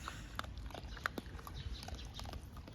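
Stray dogs eat donated food, with scattered crunchy chewing and snapping bites over a low outdoor background.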